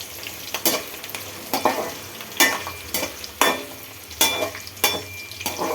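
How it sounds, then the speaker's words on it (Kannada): Onion frying over medium heat in a pan for tomato bath, with repeated scraping stirs at a steady rhythm over a continuous close, loud sizzle. "ಚಿಕ್ಕದೊಂದು ಈರುಳ್ಳಿ ಹಾಕೋತೀನಿ. ನೀಟಾಗಿ ಎಲ್ಲ ಮಿಕ್ಸ್ ಮಾಡ್ಕೊಳ್ಳೋಣ. ಮೀಡಿಯಮ್ ಉರಿಲೇ ಬೇಯಲಿ."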